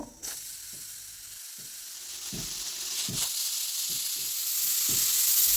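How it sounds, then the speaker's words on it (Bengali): A pressure cooker with red lentils vents steam as a continuous broadband hiss that slowly builds in loudness over several seconds, with faint low knocks underneath. "এখন প্রেসার কুকারটা আটকে দিয়ে 3টি সিটি দিয়ে নেব"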